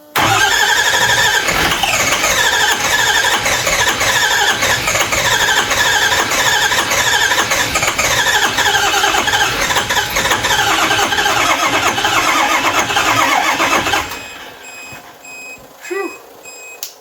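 Ford 6.0 Powerstroke diesel with a ZF6 transmission cranking and catching, a loud continuous rattly engine roar with beeping tones that drops off sharply near the end, followed by a brief quieter knock.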